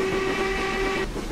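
Steam whistle of a BR Black 5 locomotive in the video game Train Simulator 2015, Western Lines of Scotland: one loud, steady, sustained tone that holds for about a second, then cuts off over rumbling engine noise.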